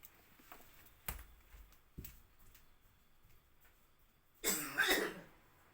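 A woman coughs in a quiet classroom-style setting: a few sharp separate coughs early, then a louder cluster of harsh coughs near the end, with no talking.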